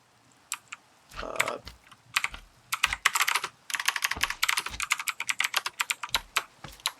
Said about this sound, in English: Sorry if my keyboard is obnoxiously loud. It's a mechanical keyboard